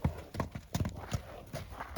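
Novoaleksandrovsk draft horse mare from the Luhansk stud, in foal, with hooves clip-clopping in a steady series of about half a dozen close, fairly loud thuds, no voices over it.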